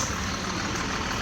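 A truck engine runs at a steady low idle, a continuous rumbling drone heard up close with no voices over it.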